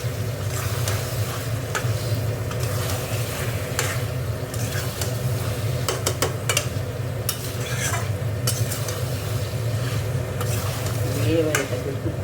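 Spiced chicken gizzard and liver with cumin, coriander powder and salt sizzle in a pan while a utensil scrapes and stirs, giving steady frying hiss broken by repeated sharp clinks and scrapes, close up.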